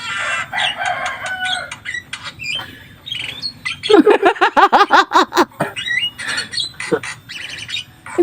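Chickens cluck and a rooster crows nearby, with rapid repeated calls in the middle, over faint background noise and brief bits of voice.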